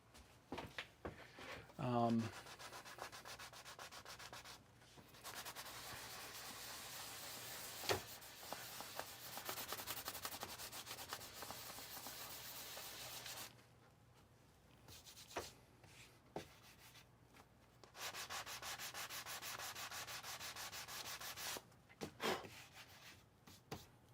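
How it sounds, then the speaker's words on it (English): Light sanding scuffs the face frame of a fridge stack during a camper van build, producing long stretches of dry, rasping friction with short breaks, while a person talks over the work. "So what we're going to do is do a light scuff and we get some adhesion"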